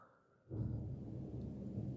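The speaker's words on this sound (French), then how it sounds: "Il y a un énorme orage." Thunder from a huge thunderstorm breaks after a brief hush and rolls on as a deep, sustained rumble that fills the rest of the moment, with no voices.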